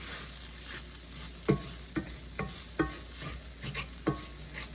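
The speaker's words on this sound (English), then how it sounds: "And I'm going to mix that up good." Spoon stirring all-purpose flour into a sizzling cottage pie filling in a pan: a series of sharp scraping knocks, about one every half second, over a steady background sizzle, with no talking.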